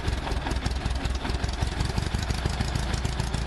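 A small two-cylinder engine of a lightweight brass-era Buick Model 10 touring car running at a steady idle, its low, rapid chugging pulses continuing evenly throughout.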